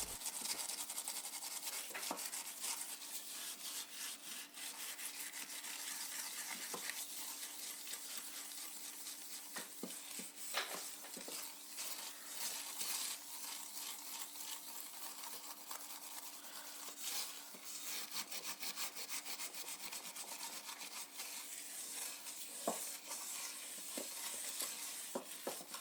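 Scrubbing a burned pot clean, a steady close-up rasping scrub that runs continuously with brief sharper scrapes, fairly quiet and with no voices.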